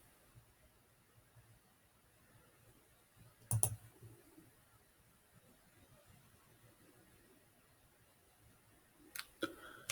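Two brief bursts of sharp computer mouse clicks against a quiet room, one around a third of the way in and another cluster near the end, soft and close.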